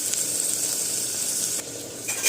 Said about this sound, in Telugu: అల్లం వెల్లుల్లి పేస్ట్ అంతా కూడా చక్కగా ఫ్రై అయినంత వరకు బాగా వేయించుకుందాం